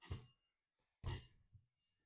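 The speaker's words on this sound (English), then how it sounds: "Can you stop the bell, please?" A bell sounds twice in a quiet room inside an old former brothel in Indiana, two sharp rings about a second apart, each trailing off into silence.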